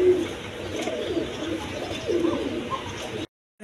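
Range pigeons, a male and female pair kept for sale, coo softly and continuously against a steady background hum, the calls low and close, ending abruptly in silence.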